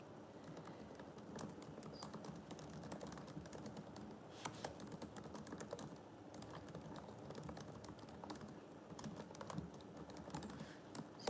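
Steady, faint typing on a computer keyboard runs throughout, soft rapid key clicks over a low background hum, with no talking.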